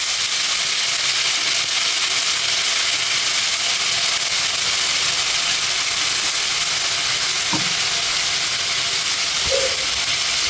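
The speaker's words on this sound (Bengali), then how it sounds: "তেলটা গরম হয়ে গেলে প্রথমে গাজরগুলো ভেজে নেবো" Carrots frying in hot oil in a wok for fried rice, a steady broadband sizzle and hiss running loud and unbroken throughout, with a couple of faint clinks near the end.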